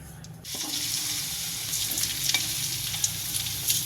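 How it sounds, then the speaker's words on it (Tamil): Garlic frying in hot oil in a pan for a potato fry, a bright hissing sizzle that bursts on after a quiet moment and holds steady with small crackles, close and unaccompanied by speech. "லேசாக பொரிஞ்சாவே போதுங்க"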